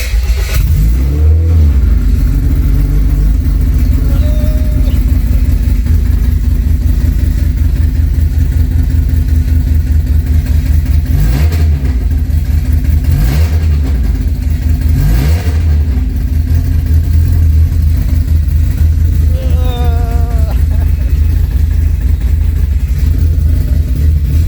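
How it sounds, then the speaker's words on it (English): A Honda CRX with a K-series engine swap turns over and catches on its first start, then idles with a loud, steady rumble, punctuated by a few brief revs, close up and without talk. "It's actually running, it's idling all by itself."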